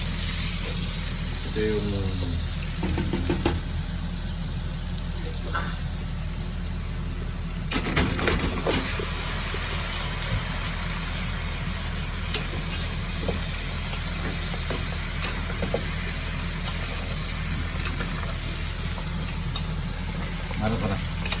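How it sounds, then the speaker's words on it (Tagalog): Onion and other ingredients for humbang pata sizzle loudly in a hot pan, a dense continuous frying hiss with occasional stirring clatter, while a person talks over it. "Lagay yung mga ingredients tulad ng onion."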